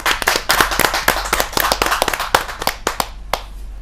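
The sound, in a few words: audience applause welcoming a poet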